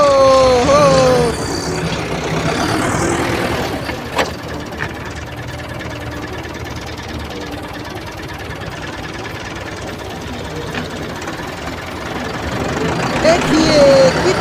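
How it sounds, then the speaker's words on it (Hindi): A big tractor engine runs on a road in traffic, a steady low rumble and knock lasting throughout, fairly close and loud, with voices and other traffic noise around it. "देखिए कितना बड़ा ट्रैक्टर चल रहा है।"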